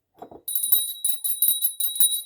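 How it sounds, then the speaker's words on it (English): A small hand bell used to clear energy during a tarot reading rings in quick, bright repeated shakes, close and fairly loud, after a brief soft sound at the start. "we will actually clear the energy with a bell"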